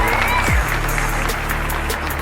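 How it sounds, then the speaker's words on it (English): An audience applauds and cheers for a speaker from the Urban Peace Movement, making a dense, steady wash of clapping and crowd noise with a voice rising briefly over the top. "Come on, y'all, raise your voice for my boy, Leo Mercer, from the Urban Peace Movement."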